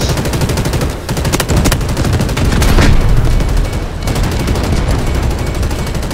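Sustained gunfire in the Delta Force video game, dense and loud, with rapid-fire shots layered over a heavy continuous battle rumble.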